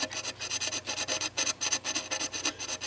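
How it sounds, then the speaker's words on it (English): A metal file rasps back and forth in quick, even strokes across a pivot hole in a Hermle 1051 020 triple chime clock movement, close and alone, about a dozen strokes. "So I take this file, and I file the unworn side of the hole out"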